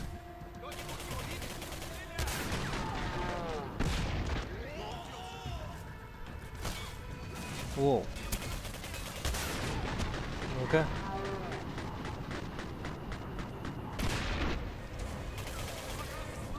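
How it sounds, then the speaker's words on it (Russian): Repeated booming grenade explosions and bursts of gunfire in the video game Singularity ring out at intervals, with a voice talking between the blasts. "Они еще и гранатами кидаются."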